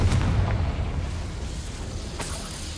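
Confringo blast spell in a witch-themed video game, a deep booming burst at the start that rumbles and fades, with a sharper crack near the end.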